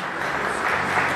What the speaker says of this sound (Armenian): Ծափերը բարձր Գորին